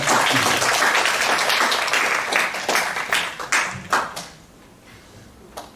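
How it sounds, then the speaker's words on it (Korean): A church congregation in Hawaii claps in welcome, a dense burst of applause that thins into scattered individual claps and fades out. "우리 박수로 환영하겠습니다."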